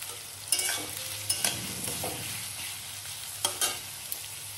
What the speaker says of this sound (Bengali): তো পেঁয়াজটা ভাজা বসিয়ে দিলাম